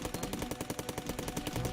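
Assault rifle in the video game Cally's Trials firing a rapid, evenly spaced burst of roughly a dozen shots, quiet and alone, lasting under two seconds.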